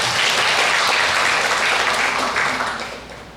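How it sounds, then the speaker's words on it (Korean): A standing church congregation welcomes a guest with loud, sustained applause, a dense wash of many hands clapping throughout that eases off slightly at the end. "잠깐만 일어나시고 박수로 한번 청해하겠습니다"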